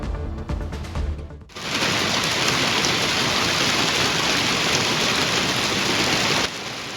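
Steady, dense hail and rain pounding down during a major evening thunderstorm cell in North Chico, loud and continuous for several seconds after a brief lead-in of other sound, then cutting off abruptly.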